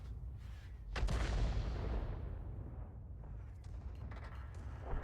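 A heavy, booming blast from an M53/M55 in a tank video game, loud and close, with a long rumbling decay that fades over several seconds.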